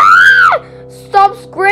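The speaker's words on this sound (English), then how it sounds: "Stop screaming!" A child screams loudly and shrilly in a sustained cry that falls away, then gives two more short screams after a brief pause, all close and with no other talk.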